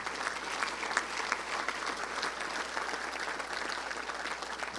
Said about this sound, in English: Let's give a round of applause for them, please.